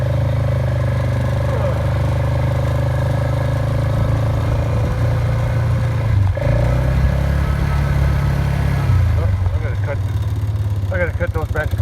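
A tractor engine drones steadily while driving along a fence line in a small pasture, loud and close, holding a constant low rumble with a slight shift in pitch midway.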